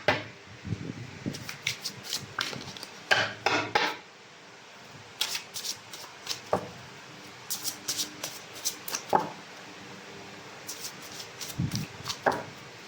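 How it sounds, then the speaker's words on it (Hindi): Tarot cards shuffled in bursts of quick riffling and soft slaps, close and fairly quiet, with short pauses between the shuffles and no voice. "Last shuffle."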